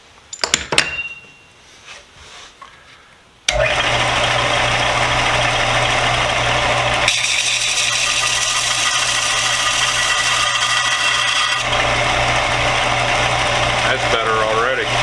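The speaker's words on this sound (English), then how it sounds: "I want to sand the heads of these down" Power sanding of the hardware bolt heads from a vintage Columbian 143 vise during a restoration, a loud, steady electric motor whine with gritty abrasive rasp that starts abruptly after a few quiet seconds of handling noise and runs continuously.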